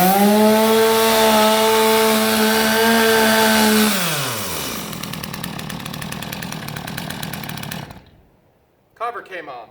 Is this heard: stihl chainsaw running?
yes